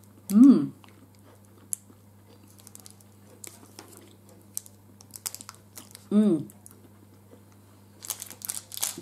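A crunchy Kit Kat Chunky chocolate wafer bar is bitten and chewed close up, with two loud crisp crunches a few seconds apart followed by softer chewing and small clicks, over a steady low hum.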